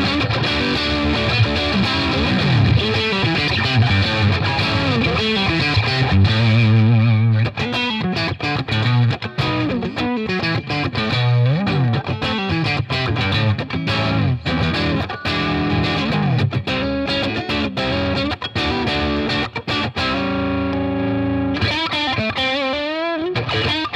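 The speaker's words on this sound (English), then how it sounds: "Let's get some dirty tones with the single coils" A heavily distorted electric guitar, a Charvel Pro-Mod So-Cal on single-coil pickups, plays chords and riffs with a bright, gritty bite, loud and continuous with no talking.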